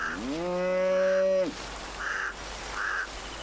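A wild gaur lows with one long, deep, droning call, nearby and loud, followed by softer outdoor background with a few higher bird-like calls.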